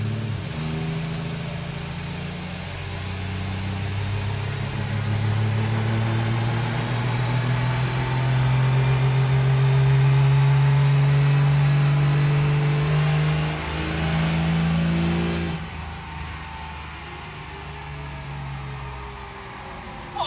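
Loud drag-racing engine with an HE351 turbo and nitrous revs hard near at hand, climbing to a sustained high-rpm roar, then easing off into a lower rumble.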